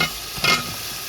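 Pieces of fried tuna drop into a pan of simmering masala for a Kerala fish perattu, giving a brief soft burst of sizzle and a scrape over a low continuous frying hiss.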